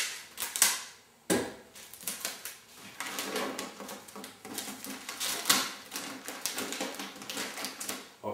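Adhesive tape pulled off a roll and pressed onto packing sheets while wrapping kitchen pots and appliances for a move, close crackly ripping and rustling bursts in irregular quick succession, with no voices.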